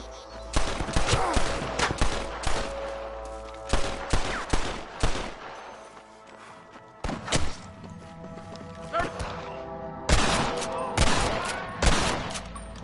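Rapid sniper rifle and gunfire shots crack out in a Red Dead Redemption Remastered shootout, loud sharp reports in bursts with short pauses, some rolling echo behind them, and a background voice shouting between volleys.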